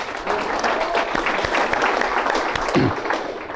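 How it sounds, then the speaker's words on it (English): Audience applause at a sports and recreation symposium, a steady wash of many hands clapping together at even loudness, with a voice briefly audible beneath it. "So I want to give a round of applause for Jay"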